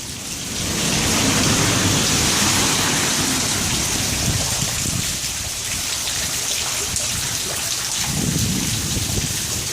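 A thunderstorm brings steady heavy rain hissing loudly throughout, with deep rolling thunder rumbling underneath near the start and again toward the end, and no voices.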